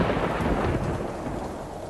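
A late-monsoon thunderstorm in a cartoon: a deep rumble of thunder swells over a steady wash of heavy rain, then fades slightly as the downpour continues alone.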